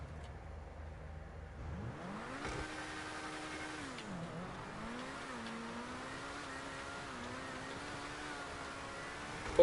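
An Emerus sports car in GTA Online revs up from quiet on a snowy drive, its engine holding a steady drone that sags and recovers through turns.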